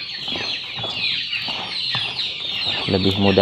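Young chicks cluck and chirp as they eat wet feed of leftover rice mixed with concentrate, a busy close chorus of overlapping calls with occasional wing flutters and a louder burst near the end.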